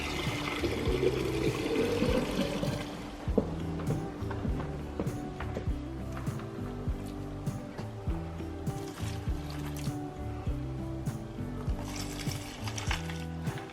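Water runs and trickles as horses' drinking water is topped up at a stable, a continuous pouring flow with intermittent clanks and knocks, close by and moderately loud, with no talking.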